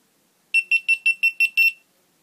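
A quick run of seven sharp, high electronic beeps from a GoPro Hero 3 Black edition camera switching off, in a steady rhythm, loud and close, then silence.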